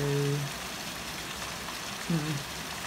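Heavy rain pours down outside as a dense, steady hiss throughout, with a brief voice rising over it at the start and again near the end.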